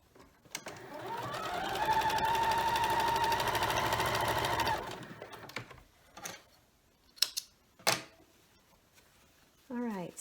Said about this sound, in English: I'm actually going to sew that one on as well